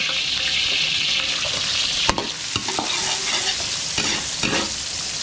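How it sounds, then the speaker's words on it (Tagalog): Garlic sizzles loudly in hot oil for chop suey, a constant frying hiss broken by a few scraping stirs of a utensil, with no talking. "So igigisa muna natin sa bawang."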